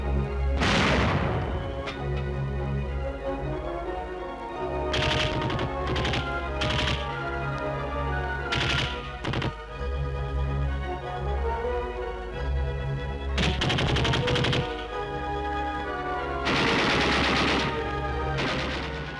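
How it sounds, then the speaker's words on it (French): Shipboard 76 mm naval gun firing airburst shells alongside a 20 mm Oerlikon machine gun, loud repeated bursts of rapid fire and sharp booms in irregular clusters, close and harsh over a steady engine hum. "La pièce de 76 tire un obus fusant, dont l'éclatement, haut dans le ciel, sert de cible au tireur de la mitrailleuse Ehrlichon de 20 mm"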